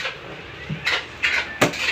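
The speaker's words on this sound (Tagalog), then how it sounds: "Yan po yung mga pinggan namin." Plates and dishes clink and knock together in a home kitchen, a few separate bright clatters spaced over a couple of seconds against quiet room noise, with no talking.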